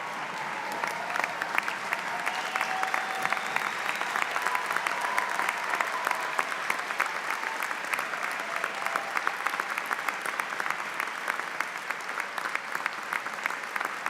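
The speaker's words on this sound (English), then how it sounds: "Would you all rise and give them a standing ovation for who they are?" A large audience gives graduates a standing ovation at a UMBC winter graduate commencement ceremony, with dense, sustained clapping filling the hall evenly and loudly for the whole stretch.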